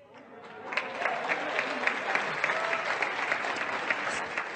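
An audience claps together in a dense, lively burst that starts suddenly and keeps going at a steady level, with some claps standing out above the rest.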